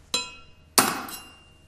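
Valve plugs and seal rings being tapped out of a separator bowl's operating slide with a metal drift: two sharp, ringing metallic strikes about half a second apart, each followed by a short fading ring, close and alone.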